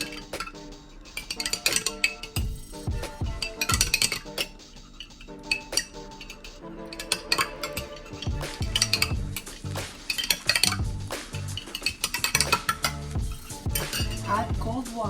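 A spoon stirs an apple cider vinegar, lemon and honey drink in a glass, making close, repeated clinks and scrapes against the glass in an uneven rhythm.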